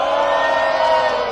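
A rap battle crowd roars and cheers loudly and steadily for a performer's entrance, a dense wall of voices with no single speaker standing out.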